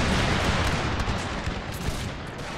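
Musket volley gunfire in a Total War video game, a dense crackling barrage of many overlapping shots rolling continuously, loud and close, with no voices.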